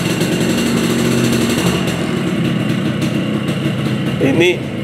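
A Yamaha RX King motorcycle on its original stock exhaust with muffler runs steadily at idle, a close, continuous engine note with people talking over it throughout.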